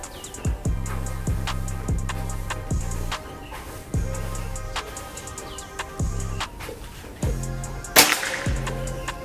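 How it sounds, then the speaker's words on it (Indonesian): A gun fired with a Hercules gives a series of sharp cracks at irregular intervals, some with a short ringing tail, ending in one louder, harsher blast near the end. "Tembakan terakhir yang pakai Hercules"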